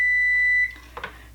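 A single long, high electronic beep from an oven timer, then a brief soft clatter.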